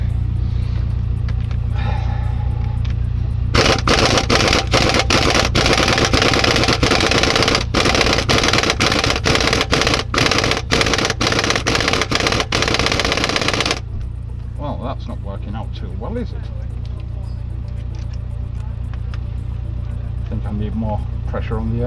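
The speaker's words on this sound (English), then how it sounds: "On the air gun." A pneumatic impact gun hammers at the bottom crankshaft pulley bolt of a Mk3 Ford Mondeo, a loud, close, rapid rattling burst running for about ten seconds before stopping, with quieter workshop background on either side.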